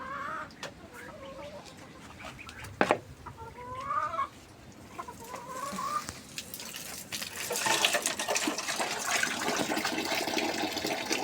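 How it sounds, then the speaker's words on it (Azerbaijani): Chickens in a home garden cluck and call in short, repeated bursts close by, over a faint background of water and outdoor sound. "Tavuklarım."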